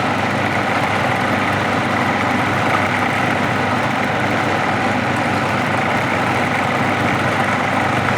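A KitchenAid stand mixer whisking at speed while emulsifying black garlic aioli with peanut oil, a steady dense whir that stays even and fairly loud throughout.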